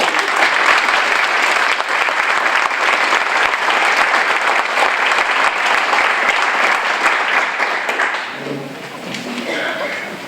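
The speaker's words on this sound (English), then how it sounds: "Okay, so a round of applause for all of you." An audience at a conference gathering claps for its retired members, a long sustained burst of dense applause that thins and fades near the end as a few scattered claps remain.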